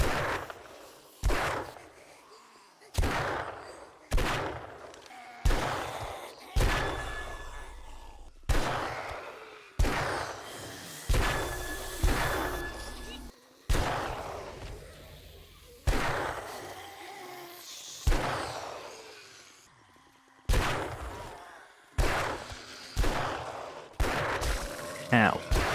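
Pistol fire from a player shooting at a wandering zombie horde in the modded survival game 7 Days to Die, coming as a steady series of sharp, loud single shots about one to two seconds apart, with brief pauses between them.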